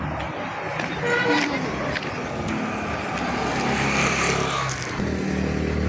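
Road traffic on a village street as people wait to cross, with cars and motorbikes passing close by, engines revving and a horn tooting, under a steady broadband rumble while voices talk throughout.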